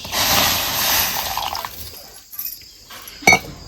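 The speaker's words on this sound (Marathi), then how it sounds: "परत आपल्याला ह्यात पाणी वाढवायचं" Water is poured into a pan on the stove while cooking coriander vadi, a loud rushing splash for about two seconds that tapers off, followed by a faint clink.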